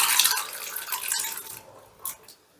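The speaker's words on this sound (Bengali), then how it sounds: "এবারে আমি ডালটাকে একটা পাত্রে ঢেলে" Cooked chana dal pours into a bowl in a soft, wet, sloshing stream, followed by a brief splatter as the last of it slides out; close and fairly quiet, with no talking.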